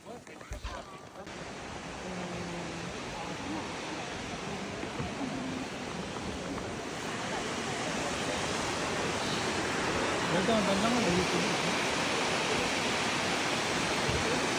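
Shirahige Falls in snowy Hokkaido rushes as a steady broadband roar that swells slightly louder toward the end, with brief voices and movement near the start.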